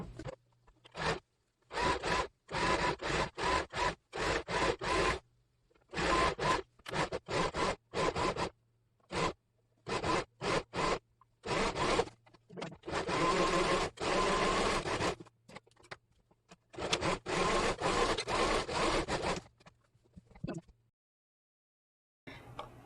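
Sewing machine fitted with a stitch presser foot sewing thick 15-count linen for a large floral eco shoulder bag, heard as repeated loud bursts of rapid mechanical stitching separated by short pauses, alone without talk.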